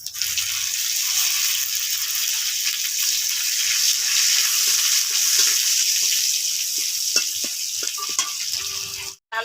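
Cumin, black cumin, panch phoron, bay leaf and chopped garlic fry in hot oil with a loud, steady sizzle throughout, plus a few faint stirring clicks near the end.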